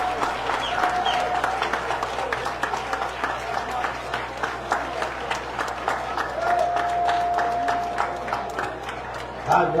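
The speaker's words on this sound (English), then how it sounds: "give him a round of applause and a standing ovation for his work" A crowd at a street-naming ceremony gives a community figure long, steady applause with cheering, the clapping dense and continuous throughout, with voices and a whistle-like tone rising above it.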